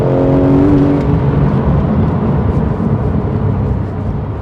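A Porsche 911 GT3 (991.1) engine revs hard and steady at high pitch, loud and close, with a whirring, sustained roar and no voices.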